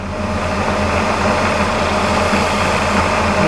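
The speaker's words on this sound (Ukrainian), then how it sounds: "Тепер лишилося зняти фаску тут" A lathe cutting a chamfer on a collet, giving a steady, even machining drone with a low mechanical hum and no talk.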